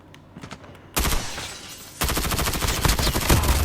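Rapid gunfire from a French-language shooter game, with near, loud bursts that step up in intensity at about one and two seconds and then continue as dense, sustained volleys.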